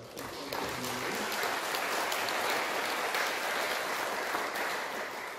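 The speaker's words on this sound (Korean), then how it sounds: "우리 먼저 한번 박수로 격려해 주시기 바랍니다" Church congregation clapping together in a steady, dense wash of applause that swells in after a brief pause and holds at moderate loudness to the end.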